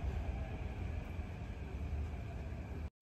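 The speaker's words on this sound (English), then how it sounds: "Almost instantly, the train arrives as per normal carrying passengers from Orchard and beyond." Metro train on the Thomson-East Coast Line rolling into an underground platform, a steady low rumble and rushing roar with a faint high whine, loud and continuous before cutting off abruptly.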